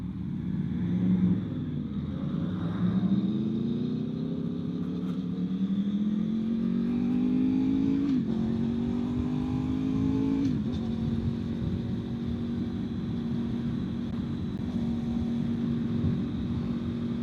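A V4 motorcycle engine held at full throttle, its tone climbing steadily through long pulls with a couple of quick shifts, loud and close against steady wind rush, with no voices.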